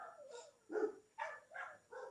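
Several dogs barking indoors in a room, a run of five separate yapping barks in uneven rhythm, fairly faint and with no talk over them.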